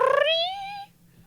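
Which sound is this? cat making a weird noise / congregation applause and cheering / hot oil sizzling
cat making a weird noise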